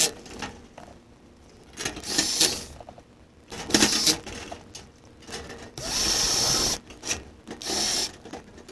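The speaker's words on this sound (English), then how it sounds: "we'll shoot some screws through to bypass those big holes" A power driver on a Case IH 7250 tin bench runs in four short whining bursts as screws are shot through the sheet metal, with quiet handling clatter between the bursts.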